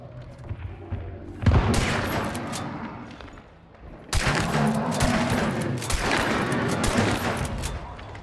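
Gunfire rings out in Hunt: Showdown in two loud bursts of rapid shots, the first short and sharp, the second a longer volley with a reverberating tail.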